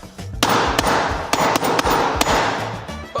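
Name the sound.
hammer striking a hardened phone screen protector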